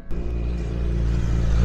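Rapid Honda Fireblade superbike on a race track, a loud, close engine roar that swells steadily as it passes, a continuous high-revving drone.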